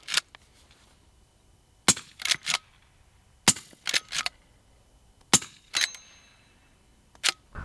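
Midwest Industries lever-action rifle shots ring out outdoors in sharp, loud cracks, in small clusters of two or three with pauses between, each followed by a quick echo.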